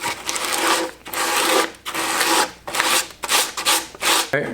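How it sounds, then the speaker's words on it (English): Repeated rhythmic strokes of sandpaper rubbing on cabinet wood, close up, in several back-and-forth bursts with short pauses between. "do a bit of sanding."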